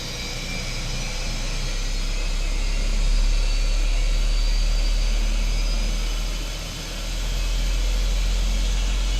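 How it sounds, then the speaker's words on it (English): Airbus A320 jet engine spooling up during start in a flight simulator, a steady loud broadband roar with low rumble that swells and dips slightly, with no talk over it. "Okay, ground flight, clear to start engines."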